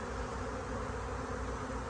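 A dense swarm of honeybees hums steadily and close, a continuous buzzing drone as the bees are moved onto hive frames, with no voices over it.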